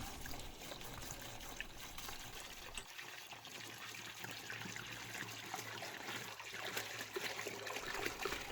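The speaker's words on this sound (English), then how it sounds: "dump the diesel into another container" Diesel pours from a boat's fuel tank into another container, a steady trickling, splashing flow of liquid that runs close and unbroken for several seconds with no voices.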